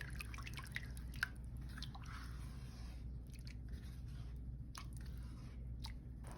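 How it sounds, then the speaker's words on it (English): Homemade orange chicken sauce, thickening toward syrup, is stirred in a pan, producing soft wet squishes and occasional light clicks over a low steady hum. "Let's give it a stir."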